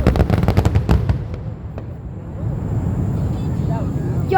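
Fourth of July fireworks burst in a rapid loud volley of close booms and crackles, then fade into a lingering rumble and distant pops as the display ends.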